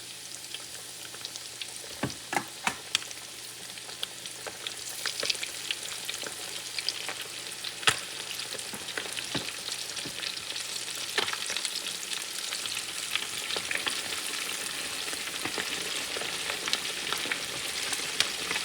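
Chicken pieces for Southern-style fried chicken sizzle in hot oil over medium-high heat, a constant loud hiss sprinkled with sharp pops and a few clacks as pieces go in.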